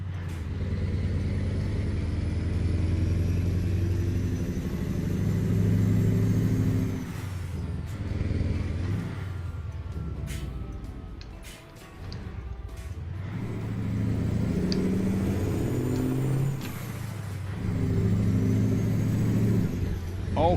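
A heavy dumper quad-train truck's engine drones and shifts pitch in a trucking game set in Mexico, dropping out of gear with gaps and hisses of air brakes between stretches of steady rumble.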